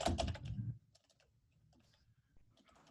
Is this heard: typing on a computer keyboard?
yes